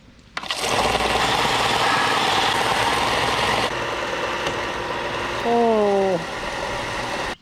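A belt sander runs with fine grit as a bevel is ground onto a bone knife, making a steady loud motorized whir with grinding texture, and a voice briefly breaks in near the end.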